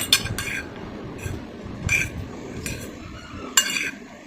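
Cucumber, carrot, green chili, onion and salt being stirred together in a bowl, with a few scraping strokes and sharp clinks of a spoon against the bowl, close and unvoiced.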